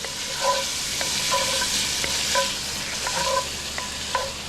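Sausage and onions frying and rendering down in a pot for Cajun jambalaya, a loud continuous close sizzle with a spoon scraping and stirring in an uneven rhythm throughout.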